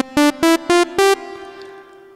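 Ensemble hall reverb setting on an X5D effects unit: four short, bright plucked tones in quick succession, then a longer ringing tail that fades slowly into a spacious wash.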